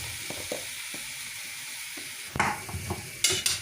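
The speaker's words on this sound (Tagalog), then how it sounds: "Ilagay natin ang ating mga gulay." Vegetables sizzle and fry in a hot pan, with a steady hiss broken by several sharp clatters and scrapes of stirring toward the end, all close and fairly loud with no voices.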